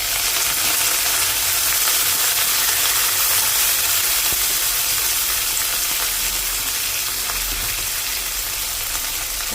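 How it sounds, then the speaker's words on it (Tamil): Curry leaves crackling and sizzling in hot oil in a pan, a dense continuous spitting fry heard close up with no talking. "கருவேப்பிலை போட்டுக்கணும்."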